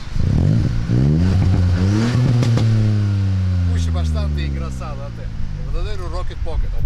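Ford Fiesta ST hot hatch revving hard, engine pitch climbing and falling in loud sweeping harmonics that fill the clip, with a few sharp clatters midway and voices talking faintly over the engine.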